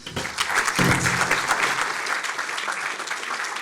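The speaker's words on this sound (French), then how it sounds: "merci beaucoup Malo, on peut l'applaudir" A crowd applauding at a start-up pitch competition, loud at first and then settling into a steady, slightly softer clapping that carries on throughout.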